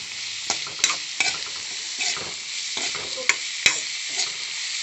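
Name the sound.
stirring chowmein with salt and turmeric in a pan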